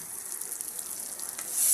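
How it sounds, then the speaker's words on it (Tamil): Prawns frying with ginger garlic paste and chili powder, giving a steady hissing sizzle that grows slightly louder at the end, close and continuous with no talking. "இதையும் நல்லா வதக்கிக்கிறோம்."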